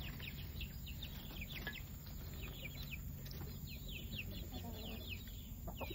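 Chickens cluck repeatedly in short, scattered calls from a coop, fairly faint over a steady low rumble of background noise.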